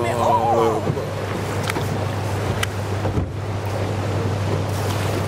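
Gondola gliding along a Venice canal with small waves slapping the hull, a low wind-buffeted wash of water with brief knocks, while a voice speaks briefly at the start.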